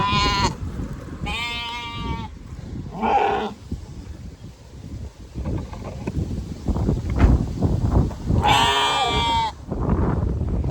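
Sheep and small lambs bleat in a field, several loud, wavering calls close by and spaced apart, with steady wind and rustling filling the gaps between them.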